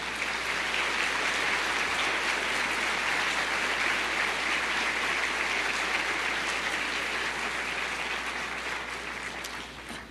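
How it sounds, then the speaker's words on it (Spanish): Sustained applause from a church congregation, dense and steady for ten seconds before thinning slightly at the end, with no talking over it. "Dele un aplauso al Señor"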